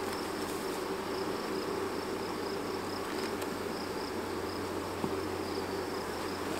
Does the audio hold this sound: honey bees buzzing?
yes